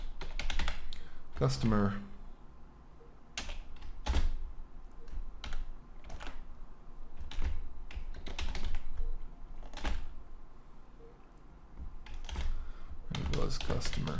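Computer keyboard typing in short clustered bursts of clicky keystrokes, close and fairly loud, with someone talking between the bursts.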